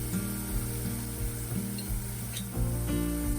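Turmeric and chili powder sauteing in oil for a Burmese chicken gizzard curry, a steady close sizzle with soft scraping stirs throughout and a slight swell near the end.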